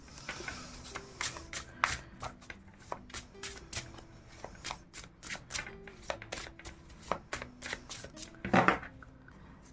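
Tarot cards shuffled by hand at close range, a long run of quick papery flicks and riffles with short taps, ending in a louder riffle near the end, over faint background music.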